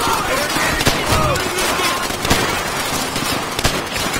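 Rifle shots crack out in Call of Duty: World at War, several sharp reports spaced irregularly over a loud, busy battlefield din of distant gunfire and clatter.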